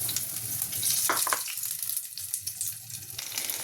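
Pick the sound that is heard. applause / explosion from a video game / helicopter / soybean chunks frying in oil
soybean chunks frying in oil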